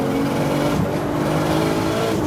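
A Nissan Skyline GT-T engine roars continuously from inside the car while driving, a loud, close, steady rev with a brief dip in the middle.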